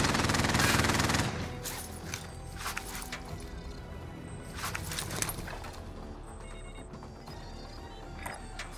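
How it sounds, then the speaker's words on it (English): Rapid automatic fire from a deployed sentry turret in the Call of Duty Warzone video game, a dense loud burst at first, then scattered shots and mechanical clatter continuing more quietly with game effects. "deploying sentry turret."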